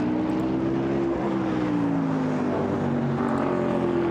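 GT racing car at the Zandvoort circuit driving through the final right-hand corner during a Blancpain Sprint Series qualifying race, a steady loud engine drone with a falling pitch as it holds the corner, no talk over it.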